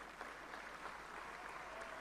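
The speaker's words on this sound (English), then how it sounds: "with melodious round of applause, let us welcome our session chair, Dr. Sarvamanagla Khanapuri." Continuous applause from a seated audience at a professional accountants' motivational talk in Bengaluru, a dense, even patter of many hands, moderately distant and unbroken.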